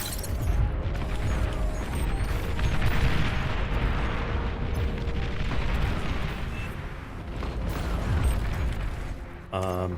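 T3 artillery fires in the strategy game Beyond All Reason, a dense, continuous barrage of rumbling booms and blasts that rolls on without pause for the whole stretch.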